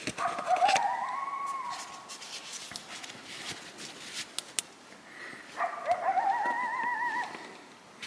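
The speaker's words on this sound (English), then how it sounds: "That's a coyote." A lone coyote howls at night near a backcountry campsite in the Uinta Mountains, two rising, wavering calls with a pause between them, moderately distant and with no one speaking.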